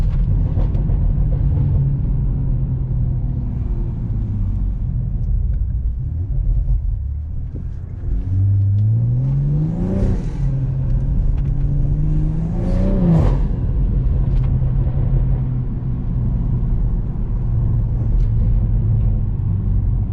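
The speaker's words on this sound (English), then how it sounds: "I've really grown used to that intake noise" A BMW M340i engine rumbles close by, revving up twice with a rising whooshing intake roar before settling back to a low idle.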